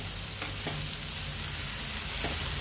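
Onions sauté in a pan for tomato chutney, a steady close sizzle with soft stirring scrapes now and then, quiet and without talk.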